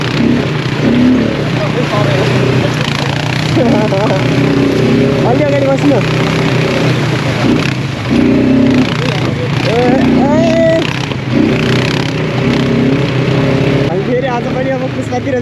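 An ATV quad bike ridden in Pokhara, its engine droning and rising and falling in pitch through gear and throttle changes, steady and close, with people talking over it.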